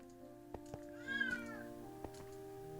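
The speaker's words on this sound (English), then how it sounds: "Do you hear my cat? She's being very, very loud and very, very obnoxious." A pet cat lets out a loud, drawn-out meow in the middle, with a few sharp knocks before and after over a steady indoor hum.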